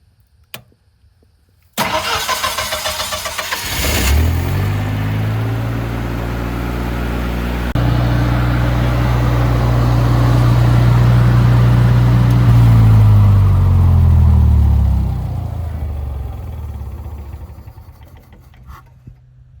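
A Generac 25kW liquid-cooled standby generator engine cranks and catches, then settles into a loud, steady, deep running drone close by that swells slightly before winding down near the end.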